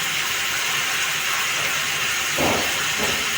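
Hot water poured into a simmering vegetarian curry of taro kofta, setting off a steady close sizzling hiss that swells into a brief bubbling burst near the end.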